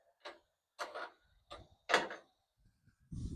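Fuel filler cap being opened on a 1926 Ford Model T, giving four separate close, quiet metallic clicks and clunks at irregular intervals, followed by a low rumble at the end.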